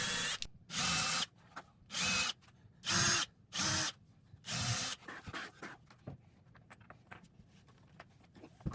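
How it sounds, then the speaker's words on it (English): A power drill bores holes into the base of an oak entry table, with five loud, sustained whirring bursts of about half a second to a second each, separated by short pauses, followed by quieter clicks and handling noise. "take the base off, drill all of them"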